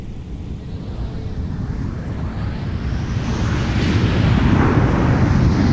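An airliner rolls for takeoff on runway 17 at MSP airport, a broad low jet roar that grows steadily louder and fuller over several seconds, heard alone without voices.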